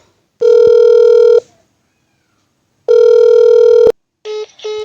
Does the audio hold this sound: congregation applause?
no